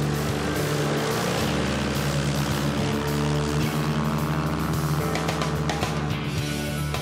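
A light aircraft engine drones loud and steady in the Alps near Méribel at 1700 metres, during a mountain aviation flight, with no pauses.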